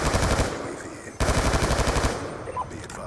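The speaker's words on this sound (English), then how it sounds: "They got a sentry gun up back in their spawn." Automatic sentry gun in Black Ops 2 firing in rapid sustained bursts, loud and close, with a brief break partway through before the stream of shots resumes and then tapers off.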